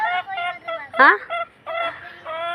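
Chickens call in quick succession as they come to be fed, nearby and fairly loud, with a sharp squawk in the middle and short gaps between bursts.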